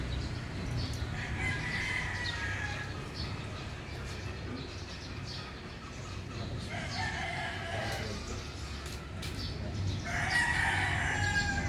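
Several roosters crow against a constant busy background of clucking chickens and farmyard noise, with louder crows near the end.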